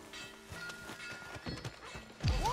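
Horse hooves clip-clopping in Red Dead Redemption 2, a steady run of close hoof beats with a brief whinny near the end, and no talking over it.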